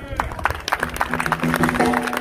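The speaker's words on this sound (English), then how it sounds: "y'all y'all give him a round of applause" Audience applause for a late musician at a memorial concert, scattered claps mixed with crowd murmur and speech running throughout, a steady bed of sound that never stands alone.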